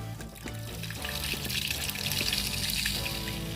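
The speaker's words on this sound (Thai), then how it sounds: "น้ำแรงมากเลยครับ" Water rushes strongly through a PVC pipe joined with a plastic bottle neck, a steady, dense splashing flow that stays loud and continuous throughout, with faint clinks underneath.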